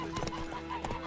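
A horse's hooves clip-clop in the video game Witcher 3, a quick run of soft hoofbeats over about a second under background game music.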